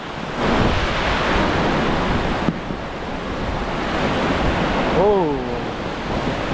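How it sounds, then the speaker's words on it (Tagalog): Sea waves wash and roll steadily around a fishing boat out on open water, a broad continuous surf roar with wind buffeting the microphone, while a voice briefly exclaims near the end. "maalon din. Pero hindi na masyadong ano, maliliit na ang gulong ngayon."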